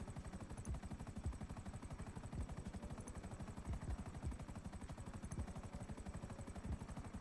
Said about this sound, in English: Let's just deposit real quick before we crash the helicopter.